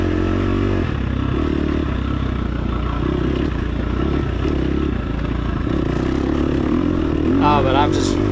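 Dirt bike engine held on the throttle while riding through loose sand on a hot, dusty ranch trail, a steady loud drone with a rising rev near the end, heard up close throughout.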